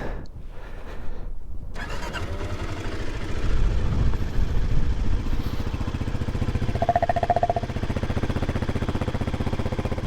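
A motorcycle engine idles steadily after a brief start, its low throbbing rumble close and continuous while an object is heated on the exhaust.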